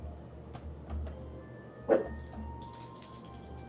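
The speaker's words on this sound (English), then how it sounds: "Stop barking." A dog barks once sharply, with a few fainter yips and jingling nearby against a low background rumble.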